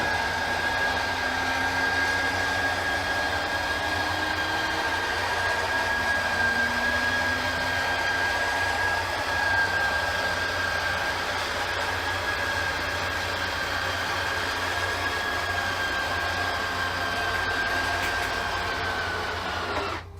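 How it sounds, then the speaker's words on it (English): The electric bed lift motors in a Thor Outlaw 37RB RV whir continuously for about twenty seconds, a smooth droning hum with a faint rising whine, then stop abruptly at the end. "we're not going to let go until the motors themselves stop making a sound"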